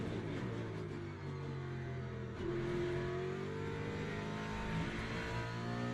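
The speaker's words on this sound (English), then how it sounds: "you can get on the gas so much more aggressively there" A race car engine in Le Mans Ultimate holds a steady, loud roar that shifts pitch as the driver gets on the throttle, with no voices over it.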